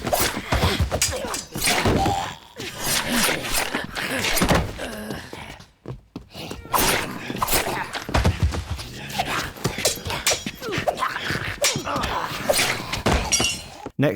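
Dry studio Foley of footsteps, cloth rustle and other handling sounds, played without music or reverb: close, busy thumps, scuffs and clatters in dense bursts with a brief near-silent gap midway.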